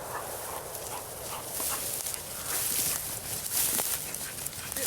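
A hunting dog retrieves a shot bird in the field, with a steady rustle and scuffle of movement through cover and small whimpering sounds, fairly close and without speech.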